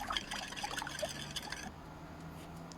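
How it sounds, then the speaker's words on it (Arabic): Boiling water is poured from a cup onto two packets of mango jelly powder, giving a steady close trickling and splashing that eases off partway through, with no talking. "ضفت عليهم كوباية مية مغلية وهبدأ ان انا ادوب الجيلي"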